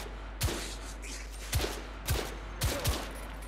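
Automatic rifle fire in the video game The Order: 1886: five separate sharp, loud gunshots spaced irregularly across a few seconds, each with a short echoing tail over a low background hum.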